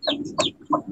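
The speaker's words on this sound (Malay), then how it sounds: "Cikgu dengar bunyi ayam ke?" A chicken clucks three short times in quick succession, fairly close and loud, with no talking in between.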